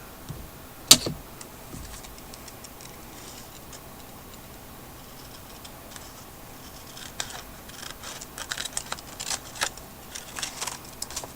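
Scissors cutting through a layer of book page paper, a sharp snip early on, then a quiet stretch, then a run of quick, soft snipping and paper rustles close by.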